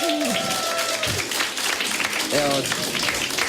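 Applause from a live studio audience at a radio show breaks out around a host who keeps talking, the clapping busy and mid-distance under the voice.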